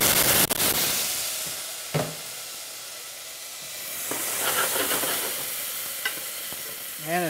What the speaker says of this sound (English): we'll add the little bit of tofu while I got the oil going